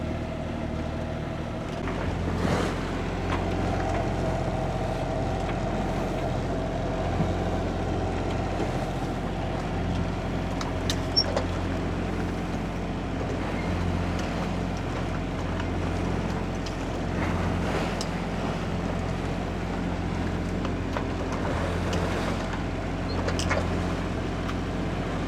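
A boat engine idles at low revs while the vessel holds off at the top of a tidal race, a steady low rumble under wind noise and water wash, continuous, with no talk.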